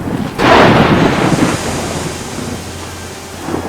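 Stormy weather sweeps in: a loud, sudden burst of thunder rumbles and roars with wind noise, then fades into a low, steady rushing.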